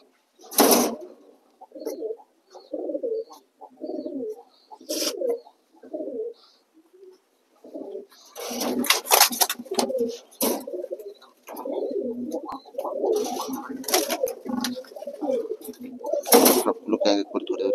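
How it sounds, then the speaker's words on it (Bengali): Lotan pigeons coo repeatedly in a loft during deworming, soft rounded calls in short bursts close by, mixed with sharp wing flaps, rustling and handling noises as the birds are caught one by one. "সব পায়রাগুলোকে ধরে ধরে খাওয়াবো"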